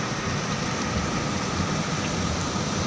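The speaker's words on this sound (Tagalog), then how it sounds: "Grabe guys, ang lakas ng ulan dito sa Bonggisunal." Heavy rain pours onto Congressional Avenue in Quezon City, a steady, dense hiss that fills the whole stretch with no breaks, with a low road rumble underneath.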